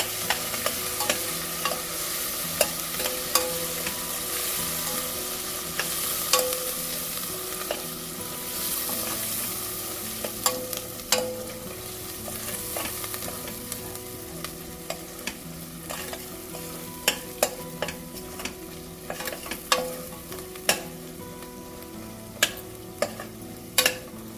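Ginger garlic paste fries in a pan under a steady close sizzle, broken by frequent sharp clicks and scrapes of a spoon stirring it, with no voices.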